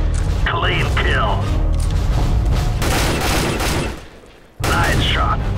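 Rapid gunfire in Counter-Strike: Global Offensive, during a deathmatch on the fy_iceworld_classic map: loud, dense volleys of cracking shots nearly throughout, breaking off briefly near the end, with game voice lines speaking over it.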